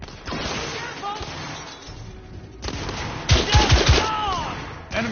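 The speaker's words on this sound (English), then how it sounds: "They're shooting at me!" Gunfire from a shooter game, The Order, with bursts of shots rising mid-clip over a busy backdrop of game noise and a voice, the heaviest rapid reports clustering near the end.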